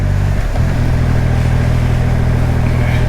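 A Triumph Rocket 3 R motorcycle engine shifts in pitch early on, then pulls hard under acceleration with a loud, sustained, rising growl.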